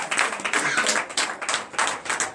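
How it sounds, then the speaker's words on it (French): A congregation claps for Jesus during a night deliverance and prophecy service, in uneven bursts of hand claps that rise and fall in waves at moderate volume. "Donnez l'acclamation à Jésus"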